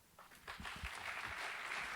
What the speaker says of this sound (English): please join me to give a big round of applause to Yuki